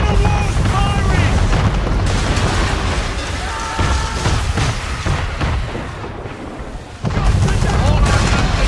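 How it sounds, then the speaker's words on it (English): Man-of-war warship cannon fire in Assassin's Creed III, heavy booming blasts and crashing impacts over a dense roar of naval battle, loud and near, with shouted voices mixed in. "Man of war's firing!"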